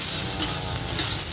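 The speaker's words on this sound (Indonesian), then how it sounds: "Nih, bawangnya dimasukkan dulu." Onions sizzle loudly in a hot pan over a wood charcoal fire for Javanese fried noodles, a dense continuous frying crackle up close with stirring throughout.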